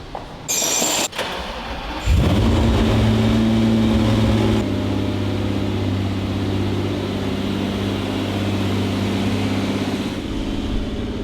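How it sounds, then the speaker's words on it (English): A Lamborghini Countach engine cranks and fires, then settles into a steady, loud, close rumbling idle while warming up, with no talking. "this is an Italian car, so we're gonna do the proper thing and let it warm up"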